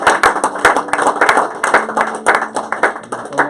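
A church congregation claps rhythmically, close and loud, with sharp repeated hand strikes and a few voices cheering or singing faintly underneath.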